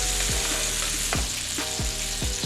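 Turkey burgers fry in leftover bacon fat in a pan, giving a loud, steady sizzle broken by several sharp scrapes and clacks as the food is stirred and moved.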